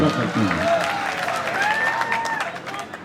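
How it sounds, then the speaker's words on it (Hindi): An audience at the 150th Urs mushaira in Kamptee applauds to welcome a poet to the stage; steady, dense clapping fills the space while voices speak over it throughout. "भरपूर तालियों से इस्तकबाल करें।"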